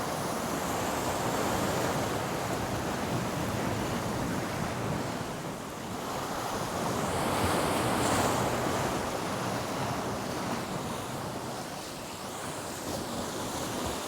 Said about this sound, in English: Just keep an eye on that sea because it's quite splashy.